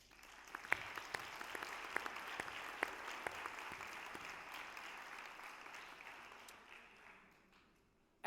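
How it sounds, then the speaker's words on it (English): Audience at a University of Aberdeen graduation ceremony applauds the graduates, a steady, fairly distant round of clapping from a large crowd that holds evenly and then fades out near the end. "Perhaps we can give a more traditional show of pride for the graduates through a well-deserved round of applause."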